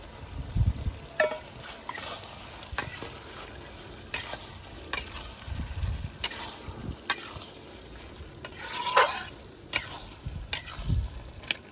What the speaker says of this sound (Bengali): এই যে সবজি সেদ্ধ হয়ে গেছে চিংড়ি মাছগুলো দিয়ে দিচ্ছি